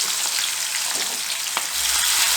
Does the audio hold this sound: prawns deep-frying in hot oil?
yes